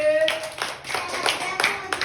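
Several bursts of hand clapping from a small group at a children's alphabet game, uneven and close, mixed with background voices.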